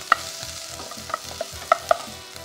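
Onions sautéing in a pan, with a utensil stirring and scraping in a steady rhythm. Sharp metallic clinks land every half second or so over a faint, continuous sizzle.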